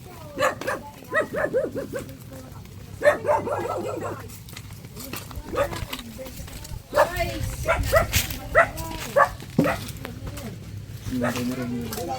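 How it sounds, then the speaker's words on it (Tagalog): Several farm dogs in a rural countryside setting bark and yip in short bursts, some near and some further off, with a whimpering note, while people talk intermittently over them. "basta ganito ang bukid, maraming alagang mga aso."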